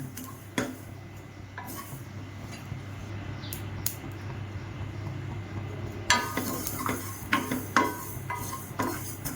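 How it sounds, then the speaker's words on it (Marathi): Mustard seeds roasting in a hot dry pan, giving sparse sharp crackles and pops over a faint sizzle and occasional scraping stirs, growing busier toward the end. "चांगली गरम झाली मोहरी. जोपर्यंत चटचट वाजत नाही तोपर्यंत चांगली भाजायची आहे."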